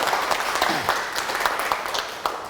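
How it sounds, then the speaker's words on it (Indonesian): Classroom audience of students applauds after a presentation, steady mid-distance clapping with a few sharper claps standing out, lasting a couple of seconds and not mixed with talk. "Oke, tepuk tangan."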